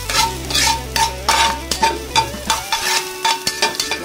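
Garlic sautéing in a little oil for adobong kangkong sizzles while a spoon scrapes and stirs it in rhythmic bursts, close and fairly loud, with no one talking.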